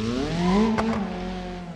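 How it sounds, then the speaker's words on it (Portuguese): A Subaru sliding sideways in BeamNG.drive, a strained tonal engine and tire whine that rises, holds and then eases, with a brief scuff in the middle. "O carro já começa a derrapar de lado,"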